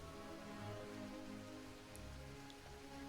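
Rain falls steadily in a soft, continuous patter, faint and even throughout, with no voices heard.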